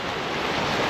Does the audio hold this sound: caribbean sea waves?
yes